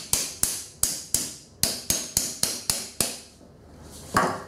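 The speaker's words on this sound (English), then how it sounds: "if you need to hammer them a bit, that's fine as well" A hammer strikes rods into the X carriage of a RepRap Prusa Mendel i2 3D printer, about ten sharp close metallic taps in an uneven rhythm, with no one talking.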